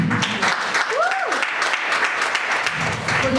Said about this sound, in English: Give yourselves an applause for